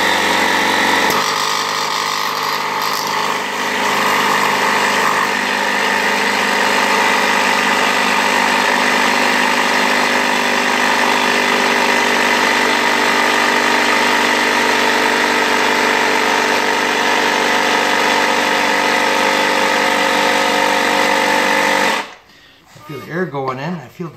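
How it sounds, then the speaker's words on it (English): An air compressor runs loud and steady for about twenty seconds while inflating a flat tubeless tire, a constant droning hum that then cuts off abruptly. "crank on my compressor."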